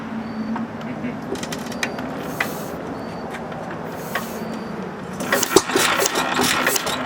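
A Hercules 1½ HP hit-and-miss engine with water coil starts and runs outdoors, its low mechanical chugging steady at first, then growing louder and busier with clattering bursts toward the end; no speech is heard.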